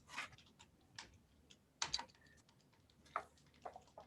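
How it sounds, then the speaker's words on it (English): Sparse, soft clicks of typing on a computer keyboard, with a few scattered keystrokes heard close and faint in a quiet room. "Adrian, would you mind doing us a favor and either typing in a Word document or typing in the chat your exact motion"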